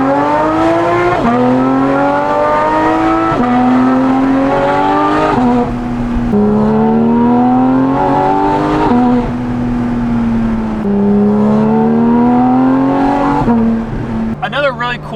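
A Porsche GT4 RS with a full titanium exhaust revs repeatedly inside the cabin, each loud, rising engine sweep dropping back before climbing again, a steady series of throttle blips heard close up with no talking.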